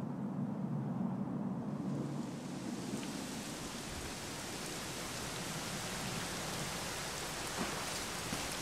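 Rain falls in a video game, with steady, dense hiss and patter on surfaces. A low rumble like distant thunder underlies the opening seconds before the rain swells and holds constant.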